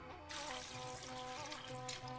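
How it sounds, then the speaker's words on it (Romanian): Water poured into a pan of fried beans being stewed with smoked meat, a continuous faint trickling and splashing that begins after a brief quiet moment and runs on evenly. "Voi adăuga apă,"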